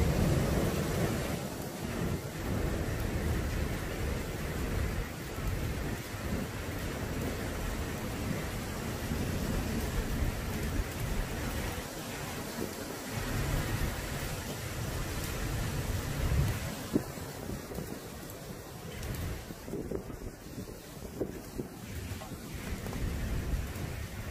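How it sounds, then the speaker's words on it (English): Derecho storm wind and heavy rain roar outside in a continuous, dense wash of noise, with steady rain and gusting wind rising and falling throughout. "It's more windy than anything right now."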